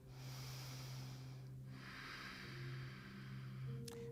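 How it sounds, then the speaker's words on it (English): Slow, steady Ujjayi breathing during a vinyasa yoga class, soft hissing breaths drawn through the throat, faint and close over a quiet room hum, with no talking. "Ujjayi."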